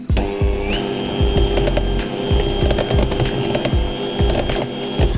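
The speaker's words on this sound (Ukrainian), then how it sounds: "ми все ретельно перебили за допомогою міксера" An electric hand mixer beats softened butter into custard cream for an Eskimo cake, a steady loud motor whir with rhythmic clattering of the beaters against the bowl throughout, no voices.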